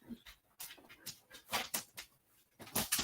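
An Alaskan Husky vocalizes in short, close, uneven bursts of whining, yelping calls, several in quick succession with brief quiet gaps between them.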